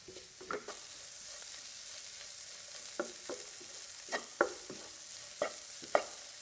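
A spoon stirs a spice mixture with ground pepper for Sri Lankan wambatu moju, an eggplant pickle, tapping and scraping against the pot in scattered, fairly close knocks over a faint, steady hiss, with no talking.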